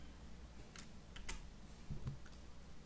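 Computer keys click faintly at a desk while laser engraving software is set up, a few separate taps spread out, ending in a small cluster of presses that takes in the Enter key, quiet and with no speech.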